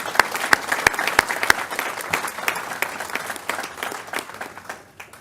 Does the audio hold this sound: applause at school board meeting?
yes